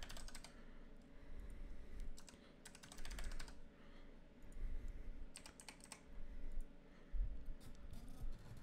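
Computer keyboard keys tapped in quick, irregular bursts as a password is entered, soft clicking clusters separated by short pauses, faint and close.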